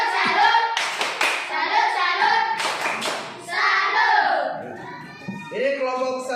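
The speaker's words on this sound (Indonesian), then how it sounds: "Tepuk salut sekali lagi." A school class performing the rhythmic 'tepuk salut' salute clap, sharp bursts of group hand claps in a set pattern mixed with children's voices chanting loudly and close by.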